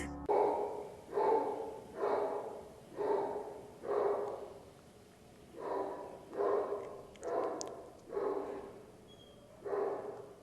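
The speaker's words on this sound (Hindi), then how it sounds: "ये कुत्ते के भौंकने की आवाज सुन रहे हैं आप?" A dog barks repeatedly at a steady pace, about ten muffled, fairly close woofs spaced roughly a second apart, with no talking over them.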